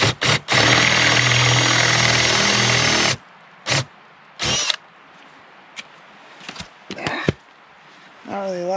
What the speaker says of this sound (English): I'll drill down with a hole that's almost the same, just a little bit wider than the end cap here